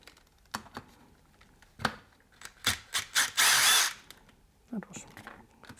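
Ratchet clicks and short mechanical bursts as the cam cover bolts come off a Moki 215cc small engine during a rebuild, close and intermittent, with one longer loud rasping burst midway and brief quiet talk.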